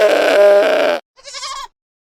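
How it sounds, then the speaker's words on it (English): A goat bleats: one long, loud, strongly voiced cry, a brief silence, then a shorter, thinner second bleat, close and clear with no talking. "That was the goat's sound."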